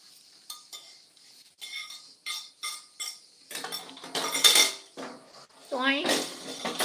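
Dishes, plates and cutlery clink and clatter in a series of short, bright knocks at close range, growing busier toward the end with a brief voice-like sound mixed in.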